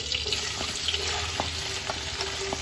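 Sliced onions frying in a pan on a stove for mutton pulao, a steady close sizzle with faint stirring clicks throughout.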